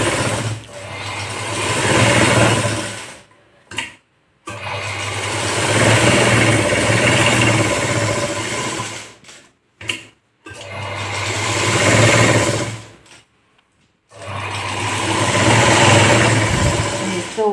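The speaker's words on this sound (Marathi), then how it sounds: "बाजूने शिवून घेतली आपण ही बाही।" A sewing machine stitches a blouse sleeve in loud close bursts of rapid mechanical whirring, four long runs separated by brief pauses, with no talking.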